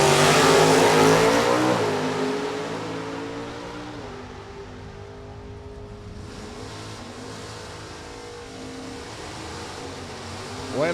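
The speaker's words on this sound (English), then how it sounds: "Big block 454 Corvette hustles down the racetrack." A big block 454 Corvette races down a drag strip, its engine roaring loud at first and then fading into a steady distant drone as it pulls away, with a faint rise again at the very end.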